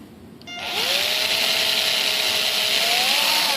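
A power drill spins up and runs steadily, a loud continuous whine with a rising then levelling motor pitch, close by with no talking.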